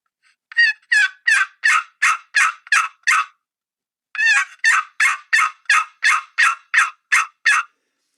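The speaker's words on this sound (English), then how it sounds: "Listen to what the real hens are saying. And here's some examples. So here's just a yelp." Wild turkey hen yelps in two clear runs of about seven evenly spaced raspy notes each, separated by a short pause, loud and close with no talking.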